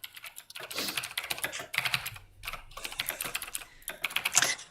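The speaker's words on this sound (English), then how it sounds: "Man, that's a loud keyboard." Rapid, clattering keystrokes on a loud Razer BlackWidow computer keyboard, bursts of close typing with brief pauses between runs and no voices.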